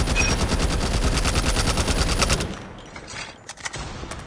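Rapid automatic AK47 gunfire in the mobile shooter game Call of Duty Mobile, a dense burst of evenly spaced loud shots for over two seconds, then quieter game ambience with a few faint thuds.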